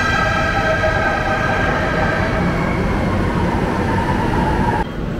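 A fast MRT Line 3 train runs along the rails in Manila, a loud, continuous rumbling roar with a high metallic squeal riding over it, heard up close from inside and cutting off abruptly near the end.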